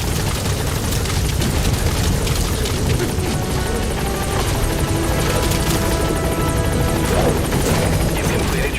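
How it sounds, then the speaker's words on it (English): Support helicopter arriving in Metal Gear Solid V: The Phantom Pain, a loud, steady rotor roar with low thudding that fills the whole stretch without any break. "Support helicopter has arrived."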